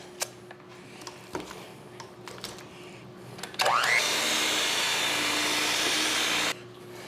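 An electric mixer whirs steadily through cheesecake batter just after eggs are added, a loud continuous motor drone that starts abruptly, runs about three seconds, and cuts off, preceded by a few light kitchen clicks and taps.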